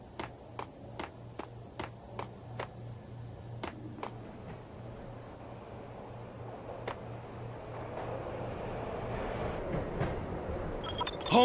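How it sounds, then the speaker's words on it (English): In the video game Max Payne, sharp metallic clanks tap out a quick irregular rhythm, then a low rumbling rises and swells as a train gets underway, ending in a bright screech. "I'd have to get it back on to get the train moving"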